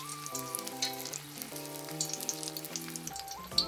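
Small squash pieces deep-frying in oil for tempura give a steady, soft bubbling sizzle, with a melodic music track playing clearly over it throughout.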